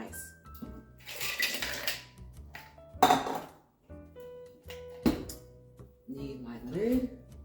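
Ice cubes clatter and clink into a blender jar for a chocolate peanut butter protein shake, several sharp bursts among dish knocks and handling sounds, close up, with a person talking in between.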